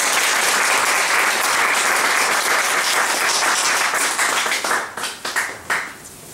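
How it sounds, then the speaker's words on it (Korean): A church congregation gives loud, close applause after a choir's hymn, steady dense clapping that breaks into a few final scattered bursts before dying away. "다시 한번 큰 박수"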